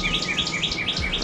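Birds chirp beside a lake during early spring bass fishing, a regular series of bright repeated tweets with faint background hum and no voices.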